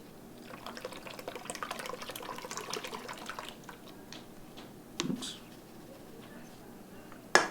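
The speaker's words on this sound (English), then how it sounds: "Trying to shake it around a little bit as I pour it in." Water from an emergency car kit poured into a sealable bag, with a soft, steady trickle and splash for several seconds while the bag is shaken, ending in a brief louder rustle.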